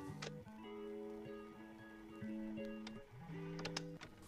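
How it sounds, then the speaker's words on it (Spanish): A sewing machine stitches fabric in short runs, its motor humming in stepped tones that stop and restart, with a few light clicks, close and without talking. "Y voy a ir a la máquina a coser"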